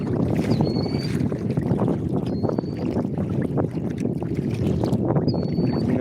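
Steady wind roaring and buffeting the microphone while paddling on open water at sunset, with faint splashes from the paddle strokes and a few thin high whistles over the wind.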